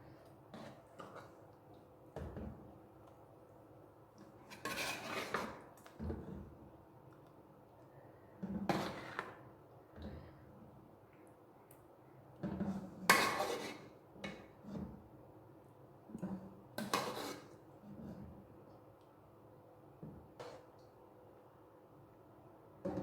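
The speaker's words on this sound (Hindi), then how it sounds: "अब हम इसे सर्विंग डिश में निकालने लगे हैं।" White chicken korma being served from a pot into a serving dish, with intermittent clinks and scrapes of a spoon against metal and ceramic, separated by quiet gaps.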